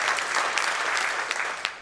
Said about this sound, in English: give me 4 claps if you're all really excited to be here in person